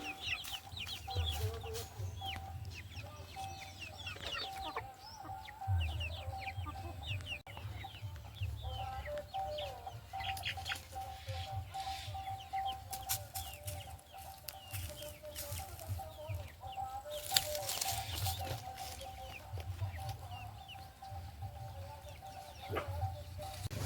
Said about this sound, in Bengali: ওগুলো বড় বড় মুরগি।